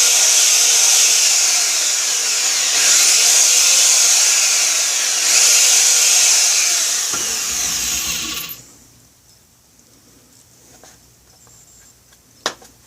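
A power tool reams out a screw hole in a Kydex sheath, a loud high-pitched whine lasting about eight seconds that winds down and stops, leaving near silence with one small click.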